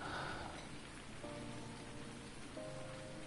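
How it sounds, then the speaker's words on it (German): Steady rain in a video game patters on a surface, a dense continuous hiss with faint tonal sounds briefly layered on top. "So ein Shit mit dem Regen, hey."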